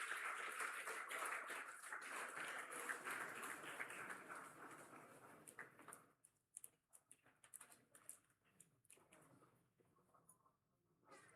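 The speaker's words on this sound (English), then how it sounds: "A big round of applause" Audience applause at an engineering institute's Founder's Day award ceremony: a dense wash of clapping that holds steady for several seconds, then thins into scattered, fading claps.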